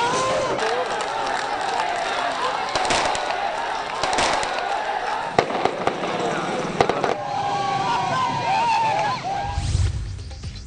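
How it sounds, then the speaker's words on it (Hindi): Fireworks crackle and pop in bursts amid a noisy street scene in Pakistan, with crowd noise and voices throughout. "पाबंदी के बावजूद जगह जगह आतिशबाजी"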